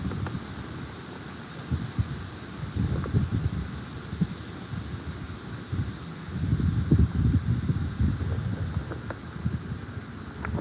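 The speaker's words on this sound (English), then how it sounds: "That wind is blowing, it is kicking my butt when I'm trying to throw these flies" Wind blowing outdoors during fly fishing, a steady rumbling roar buffeting the microphone in uneven gusts that swell louder toward the middle and end, with no talking.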